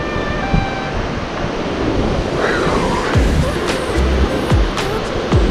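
Ocean surf washing in at Cherry Grove Pier at low tide, a steady broadband wash with wind buffeting the microphone and faint distant sounds, no talk.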